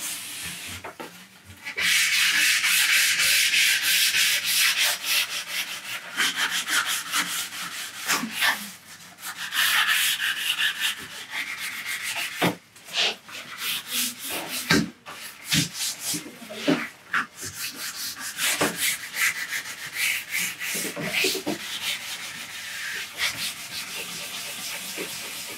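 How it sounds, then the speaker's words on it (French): Foam sanding sponge rubbed over curved wooden moldings during a distressed decorative paint finish, a steady close scratchy rasping with short pauses and changes of stroke, no talking. "cette mousse à poncer, elle me permet d'épouser vraiment toutes les formes"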